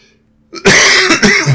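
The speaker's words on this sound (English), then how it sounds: "Still got the tickly cough." After a brief quiet moment, someone coughs loudly and close by, a rough throaty burst followed by a couple more hacking pulses.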